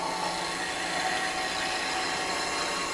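A wood lathe spins while a skew chisel slides along the workpiece, throwing up shavings; a steady, close motor hum blends with a continuous cutting hiss, and no one speaks.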